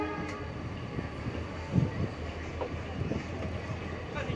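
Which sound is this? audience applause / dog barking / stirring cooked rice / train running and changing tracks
train running and changing tracks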